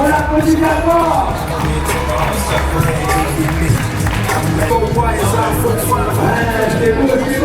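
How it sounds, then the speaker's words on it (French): A dense crowd at a street lifting competition in Annecy claps and cheers for a female athlete, a loud, sustained wash of applause with voices and whoops throughout. "On l'applaudit d'abord."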